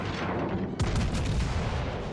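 HMS Warspite's battleship main guns fire in World of Warships Legends, a heavy booming salvo that lands abruptly partway through, followed by a rolling series of deep, loud blasts over ongoing naval battle noise.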